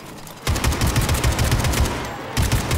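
Rapid automatic gunfire from the video game Atomic Heart starts abruptly and continues in dense, loud bursts with a short break before resuming.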